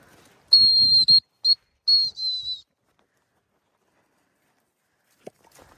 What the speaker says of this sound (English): I might try a whistle recall.